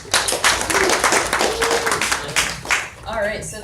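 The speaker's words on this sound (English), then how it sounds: "let's give them another round of applause" Audience applause at a live wildlife show, a dense, loud wash of many hands clapping steadily for several seconds, with voices and cheers mixed in near the end.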